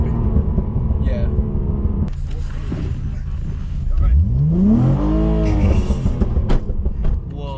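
A Holden Commodore VF SV6 engine revs hard and climbs in pitch as the car accelerates, loud and close inside the cabin, with excited voices talking over it.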